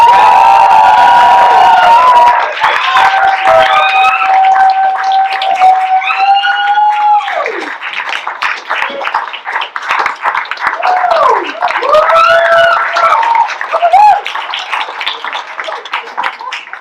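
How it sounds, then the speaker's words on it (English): A comedy club crowd cheers, whoops and claps hard as the next comic takes the stage, a loud sustained roar with shouts rising over steady applause throughout. "Y'all don't gotta clap that hard."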